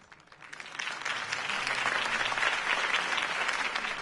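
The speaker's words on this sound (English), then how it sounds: "If only Mr. Wayne, my campaign's largest backer, could have heard that applause" Crowd applause in The Batman Telltale Series video game, a steady dense clapping that swells in over the first second and holds loud and even to the end.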